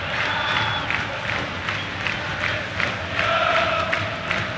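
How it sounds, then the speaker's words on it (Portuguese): Fluminense supporters cheer and applaud in the Maracanã stadium during a 2008 Libertadores match, a broad roar of the crowd swelling and easing with bursts of shouting over steady noise. "Enquanto a torcida do Fluminense comemora e a bola rola no Maracanã"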